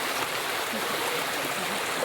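Steady rushing of a river stream flowing continuously, broadband and fairly loud, with no voices.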